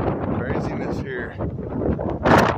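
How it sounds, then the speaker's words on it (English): Wind blowing outdoors in Lawton, Oklahoma, a rough fluttering rush on the microphone with brief gusts and a louder burst near the end. "The wind is blowing."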